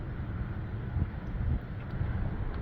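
Strong wind buffeting outdoors beside a 1984 Honda Accord, a steady loud low rumble with gusts swelling around the middle and end, no voices.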